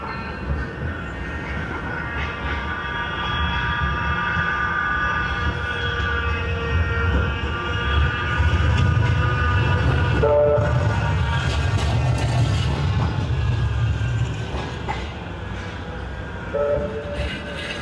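A Manchester Metrolink tram runs along street tram lines near Piccadilly, rolling past with a low rumble that builds mid-clip, along with a few short horn or bell tones and some background street noise.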